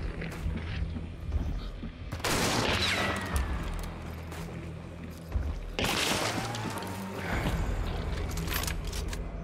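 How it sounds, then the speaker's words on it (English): Gunshots punching through a wall in the game Hunt: Showdown, two loud broadband bursts with lingering tails over a steady low in-game background rumble. "Now for tip number 40, you can actually wall bang."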